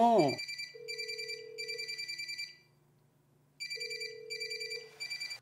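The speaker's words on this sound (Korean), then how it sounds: "전화 오잖아." A telephone rings in repeated bursts of bright electronic trills, pausing in between, with a steady low hum underneath and a brief voice at the very start.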